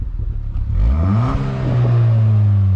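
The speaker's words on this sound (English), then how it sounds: "Go on, rev him up, Bill. Yeah, it's got much better tone now." A car engine fitted with a new Milltek exhaust revs up, its deep exhaust note rising in pitch and then holding at a higher, throaty drone, loud and close.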